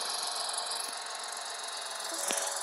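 A tractor engine in the farming game Farming Simulator 14 hums at a steady idle with a faint rattle, continuous and even throughout, with no voices over it.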